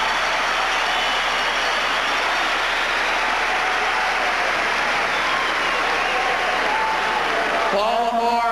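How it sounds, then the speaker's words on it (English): An arena crowd at a professional indoor soccer championship game in Baltimore gives the St. Louis Steamers a hand, a continuous wash of applause and crowd noise with a faint voice entering near the end. "rise and give a deserved hand of applause to the Steamers."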